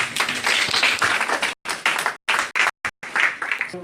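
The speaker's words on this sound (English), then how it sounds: "Everybody give Serena Joy one more round of applause." An audience clapping for a performer at a skills-sharing meetup, loud bursts of clapping that break into choppy gaps near the end.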